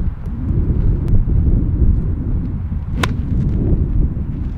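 Strong 40 mph gusts sweep across a golf course at Chimera Golf Club as a heavy, continuous low roar buffeting the microphone, steady throughout, with one sharp click partway through and no voices.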